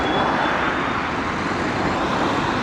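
Steady traffic on a main road in Graz, Austria, a constant broadband roar of passing cars and heavier vehicles heard close by from the roadside, with no talking.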